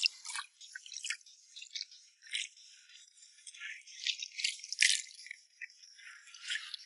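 Freshly caught tiger crabs from a mangrove mudflat rattle and scrape inside a container, a dry, light clicking and scratching that comes in uneven bursts at close range and stays fairly quiet.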